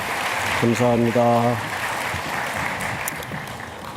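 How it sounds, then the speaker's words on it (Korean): Congregation applause during a Sunday church service, a steady broadband clatter running the full four seconds under a man's spoken thanks and a brief sung or tonal phrase. "우리 다시 한번 큰 박수로 격려합시다."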